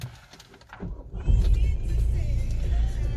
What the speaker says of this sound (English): And we'll start the car up